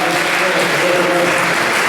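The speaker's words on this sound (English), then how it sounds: "Give G1 a big round of applause" Loud, dense applause from a fundraiser audience fills the room without pause for the full stretch, a steady wash of many hands clapping at once.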